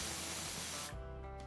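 A pressure cooker on the gas, cooking onion and tomato for a jackfruit curry, vents steam in a loud, close, continuous hiss that cuts off abruptly, leaving a lower residual hiss and hum.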